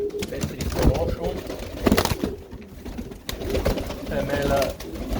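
Pigeons cooing close by in low, rolling calls, with someone talking over them.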